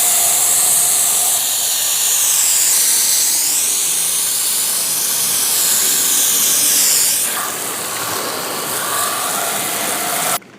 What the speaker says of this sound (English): we're going to rinse them off and then take them inside